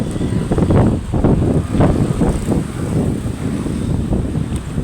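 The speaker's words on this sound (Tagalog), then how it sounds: "masarap ng hangin" Steady wind buffeting the microphone, a loud low rumble with gusty surges throughout and no voices.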